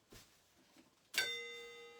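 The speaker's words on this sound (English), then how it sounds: "Apparently I thought I needed to make a gong sound." An accidental gong-like metallic ring during a paper marbling session, one sharp strike followed by a sustained shimmering tone that decays slowly, after a few faint quiet knocks.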